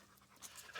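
A dog pants quickly and close by in a short burst outdoors, with the breathing growing louder toward the end.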